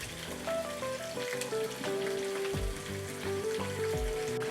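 Semi-dried pollock (kodari) pan-frying gently over low heat gives a steady, soft sizzle running through the whole stretch, with faint tonal sounds in the background.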